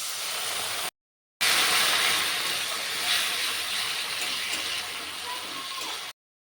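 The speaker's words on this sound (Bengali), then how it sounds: "দিয়ে দিচ্ছি একটু জল আগে" Water is poured into a hot pan of young jackfruit and prawn curry with tomatoes and salt, giving a loud, close rushing hiss that runs for several seconds around a brief gap.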